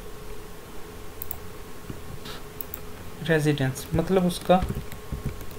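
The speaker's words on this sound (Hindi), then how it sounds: "इसकी हम टाइप कर देते हैं स्ट्रिंग" Clicks of computer keys being typed while entering data in statistics software, a few soft taps under someone talking in Hindi throughout.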